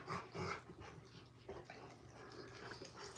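A ranch dog, a stubborn, hard-headed male, whimpers and whines in soft, uneven bursts, fairly close and moderately quiet, with some panting breath between the cries.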